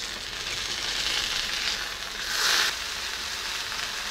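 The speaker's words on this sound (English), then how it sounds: "And fry the steaks. Skin side up." Salmon steaks fry skin side up in a pan, giving a steady, fairly loud broadband sizzle that swells briefly near the end and then settles back to an even hiss.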